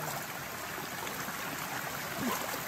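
Clear stream water rushes steadily at a waterfall, a constant broadband flow with faint gurgles that is near and even throughout.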